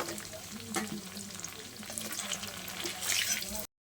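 Baby corn pieces fry in hot oil in a pan until lightly reddened, giving a steady, close sizzle with soft crackles and a brighter burst of spitting near the end.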